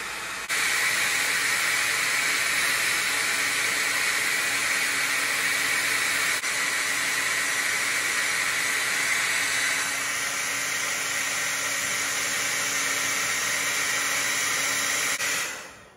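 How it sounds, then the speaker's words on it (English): A hair dryer runs steadily as a resistive load on a TOPBULL 4000-watt 12-volt to 110-volt pure sine wave power inverter, a loud continuous airy whoosh with a constant hum, joined partway through by a thin high whine. "I've got the resistive load, the hair dryer on here."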